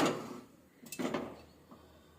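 A metal frying pan set down on a lit gas stove while cooking, giving a couple of close, short metallic clanks and knocks against a quiet kitchen background.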